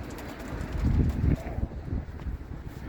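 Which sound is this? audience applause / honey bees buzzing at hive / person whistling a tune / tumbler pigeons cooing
tumbler pigeons cooing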